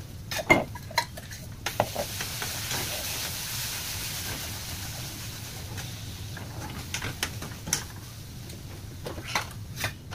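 Onion-tomato gravy with ginger, chili and garlic paste cooks in a hot pan, a soft sizzle under repeated stirring with metal utensil clinks and clatters against the pan.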